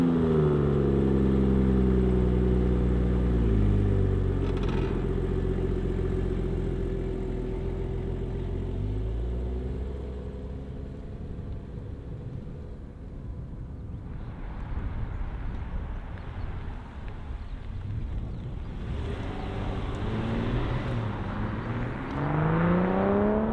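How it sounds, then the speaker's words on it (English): A BMW M340i Touring car driving, heard from inside as the engine note rises and falls through gear changes, steady and moderately loud with road rumble beneath. "I think we need to take it out for a quick drive"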